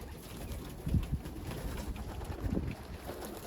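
Young racing pigeons at their loft coo softly in two short bursts, heard close by over a steady, gusty outdoor wind rumble.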